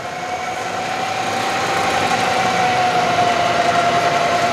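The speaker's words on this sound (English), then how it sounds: "The power quill feed is engaged. The spindle speeds up and slows down." Bridgeport Series I 2HP vertical milling machine spindle running steadily with the power quill feed engaged, a constant whirring motor tone with a clear sustained pitch, near and fairly loud, with no talking.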